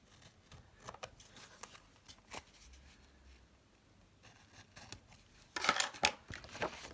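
Scissors snip through excess paper and sticker backing at a craft table, a series of soft, close cuts and rustles that end in a louder flurry of crisp snips.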